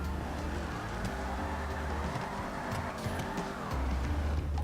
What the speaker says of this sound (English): Ooh, it drifts, but she shifted on me really easy